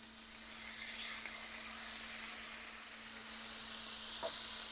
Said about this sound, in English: since we're grilling, we're going to flip these and add more glaze to the other side